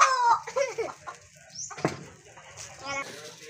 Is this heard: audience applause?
no